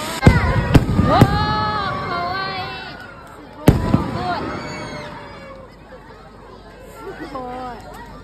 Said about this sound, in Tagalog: Nakakatuwa nga din tong fireworks kasi sobrang tagal matapos.